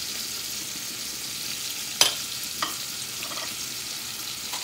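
Scotch bonnet pepper frying in a pan with red bell peppers for a Haitian salt fish sauce, a low steady sizzle broken by a sharp utensil clink and a softer knock as it is stirred.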